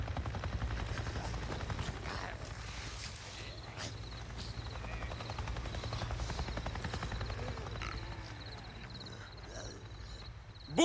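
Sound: helicopter passing overhead in a video game

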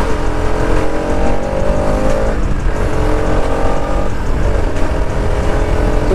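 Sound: motorcycle being ridden fast on a road

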